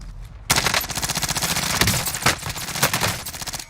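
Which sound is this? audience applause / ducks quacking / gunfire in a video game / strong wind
gunfire in a video game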